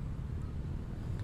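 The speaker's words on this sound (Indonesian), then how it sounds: "Tapi bunyi angin, ada sikitlah angin." Light wind buffets a lavalier microphone outdoors, a faint, steady low rumble of soft breezy noise with no talking.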